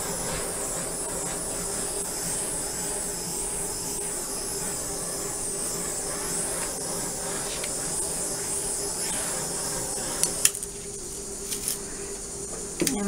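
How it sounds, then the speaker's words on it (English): A steady, loud hiss from a handheld torch heating an acrylic paint pour runs continuously, with a few faint clicks and light knocks near the end. "So I'm going to torch this"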